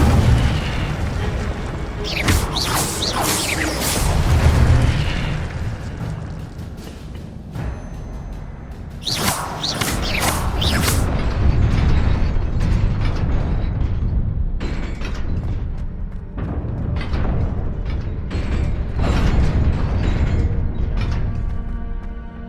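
Spell casting effects in the video game Hogwarts Legacy: loud booming magical bursts and blasts erupt in several clusters, with rumbling, crackling tails and a dense, busy layer of game sound between them.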